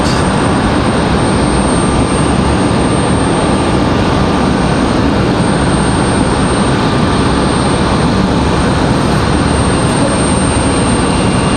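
FedEx freighter jet at Raleigh Durham International Airport, a loud continuous engine roar close by that holds steady throughout with no voices.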